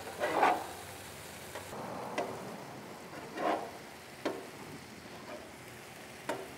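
Cheeseburger egg roll filling browning in a hot pan sizzles steadily, broken by several scraping stirs and tosses of the meat at irregular intervals, close by with no talk.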